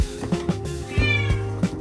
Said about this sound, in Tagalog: Ingay naman ang pusa namin eh.